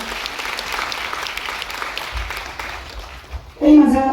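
An audience applauds a woman being honoured at a public event, a dense, sustained wash of clapping that fades before a voice starts speaking.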